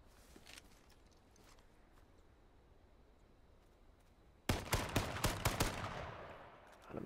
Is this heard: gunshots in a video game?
yes